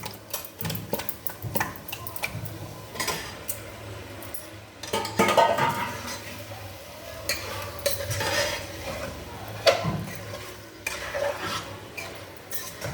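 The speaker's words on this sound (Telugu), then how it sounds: "ఇప్పుడు చేప ముక్కలు ఇందులో వేసేస్తున్నాను" Fish pieces dropped into fried onion paste in a pan for a fish stew, with irregular clatters and scrapes of a spoon against the pot over a low background sizzle.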